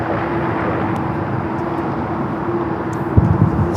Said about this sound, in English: Our next arrival here on the south side is an American Dreamliner coming in from Tokyo Haneda, flight 26.